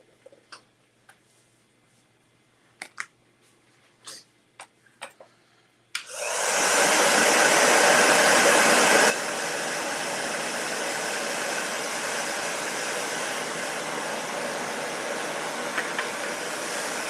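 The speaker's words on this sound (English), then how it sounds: "Okay, so we're going to dry that real fast." After a few soft taps and clicks, a hair dryer starts up loud and close to dry paint on a craft pumpkin. It roars steadily, then drops to a lower setting and keeps blowing.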